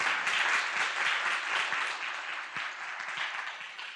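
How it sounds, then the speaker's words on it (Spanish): A church congregation at Iglesia Cristiana El Arca applauds, many hands clapping in a brisk, even patter that starts strong and softens slightly toward the end, heard from within the room with no talking. "¿Por qué no le damos un aplauso a Dios por todo"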